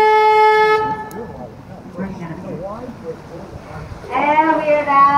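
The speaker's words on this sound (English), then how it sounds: "I do have to honk my horn here really quickly so nobody gets scared." A loud, steady boat horn blast sounds for under a second on the San Antonio River Walk, followed by someone talking, then a second horn blast rises near the end.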